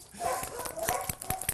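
Labrador named Storm, an enthusiastic, lively dog at an animal shelter, barking in quick repeated bursts close by amid background shelter noise and voices.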